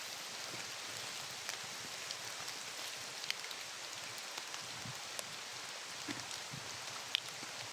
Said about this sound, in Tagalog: Makulimlim yung kalangitan, tapos may ulan.